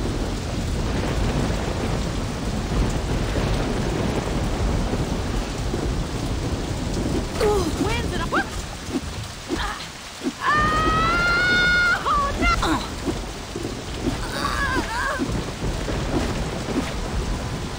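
Rain and thunder in the video game Saints Row: a steady loud rain hiss with rumbling thunder, mixed with brief wailing and vocal sounds partway through.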